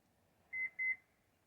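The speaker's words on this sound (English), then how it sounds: "hold this, you hear 4 beep, and then keep holding it until you hear 2 more beeps" Two short electronic beeps from a Toyota or Lexus power liftgate being reset, in quick succession, clear and fairly close, over a quiet background hum.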